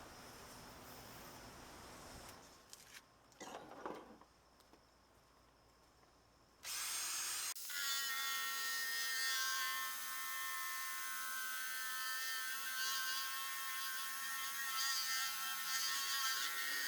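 A drill spins an eraser wheel against a van's pinstripe, starting faint and muffled, then jumping to a loud, steady high-pitched whine that holds without a break, close to the microphone.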